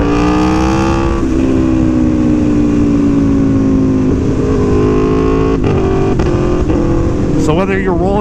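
An Aprilia Tuono V4 1100 motorcycle engine drones loudly and closely at a held pitch, then rises and warbles in quick revs near the end, with a voice speaking over it.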